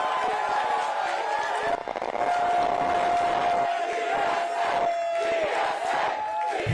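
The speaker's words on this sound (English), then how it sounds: "let's hear a round of applause for New York City DSA!" A crowd roars and claps for New York City DSA, loud sustained cheering and whooping with a steady tone running through the middle.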